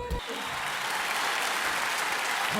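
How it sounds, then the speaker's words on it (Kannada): Dense audience applause at a film event in Mysore, starting abruptly after a brief low thump and holding as a steady, full wash of clapping across the whole stretch. "ಚಪ್ಪಾಳೆ ಹೊಡೆದ್ರಲ್ಲ, ಭಾಳ ಖುಷಿಯಾಯಿತು"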